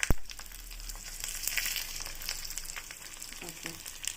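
Garlic and betel-leaf chillies fry in hot oil, a steady crackling sizzle with scattered sharp pops after a thump at the start, fairly quiet and with no talking.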